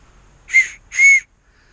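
Two short, shrill whistle blasts close by, the second held a little longer, with silence between and after.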